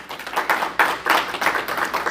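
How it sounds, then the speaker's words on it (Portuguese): Church congregation clapping together during a service, a rhythmic series of loud, roughly even bursts of hand claps close by with no speech. "Uma salva de palmas para Jesus."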